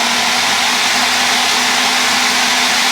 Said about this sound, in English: I had enough liquid in there that it blended pretty quickly and pretty well